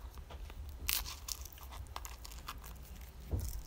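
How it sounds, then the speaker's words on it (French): Crispy fried zlabia pastries being bitten: a few sharp crunches spread over a few seconds, close and fairly quiet, with no talking. "Donc les albis sont bien croustillants."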